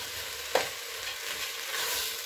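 Food frying in a pan for a lentil dish gives a steady close sizzle throughout, with a single brief scrape or clink near the start and no talk.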